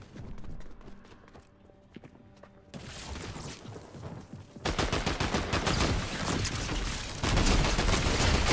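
Rapid automatic gunfire in Fortnite, sparse at first, then dense bursts of sharp shots that grow louder and keep going steadily to the end, with a little movement noise underneath.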